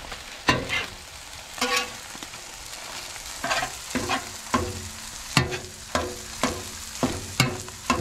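Sausage, eggs and spinach sizzle steadily on a Blackstone griddle, with a run of sharp scraping and tapping hits from the spatula at a near-regular beat, up close and with no talking.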